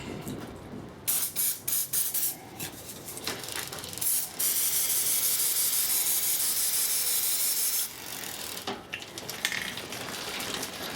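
Spray can of white lithium grease worked on a Kona A'Ha bicycle, with a long steady hiss of spraying over several seconds amid clicking, ratcheting mechanical handling noises before and after.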